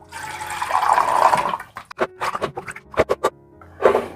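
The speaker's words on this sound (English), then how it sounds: "I got some room temperature water. We'll just fill this right in." Water at room temperature pours steadily into a pot for a moment, about 16 ounces, then stops, followed by a few scattered clinks and handling sounds.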